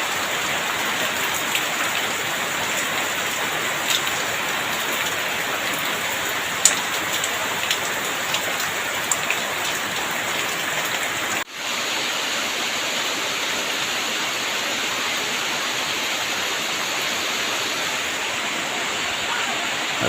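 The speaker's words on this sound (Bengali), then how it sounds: "খুবই অন্যরকম হচ্ছে বৃষ্টি আজকে, যা চোখে না দেখলে বিশ্বাস করার মতো না। এত বৃষ্টি হচ্ছে আজকে প্রচুর।" Heavy rain pours steadily in Chittagong, a dense, continuous hiss of drops on surfaces close by, loud and unbroken across the whole stretch with only a brief dip midway.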